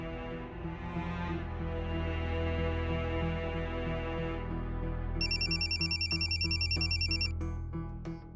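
A telephone rings at home in a repeating electronic ringtone pattern of bright pulsed tones, moderately loud over a steady background music bed, with no talking.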